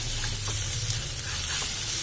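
Tomato masala with turmeric sizzles quietly in a pan over a medium flame while being stirred. The frying hiss is steady and continuous, with faint scraping, and no one speaks.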